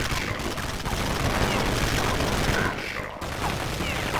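Dense, continuous gunfire in a Counter-Strike match on the de_tuscan map, a loud sustained barrage of overlapping shots with a brief dip near the end.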